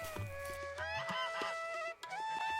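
A cartoon duck lets out a run of loud, nasal honking quacks, several bursts in quick succession with bright, buzzy tones and no talk over them.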